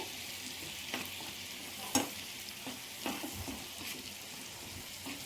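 Spice paste with beetroot frying in a pan for a fish curry, a steady sizzle with a few sharp clinks of a spoon stirring against the metal, close up and alone.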